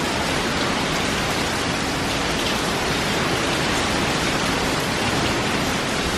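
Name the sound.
hurricane wind gusts, Hurricane Delta in Louisiana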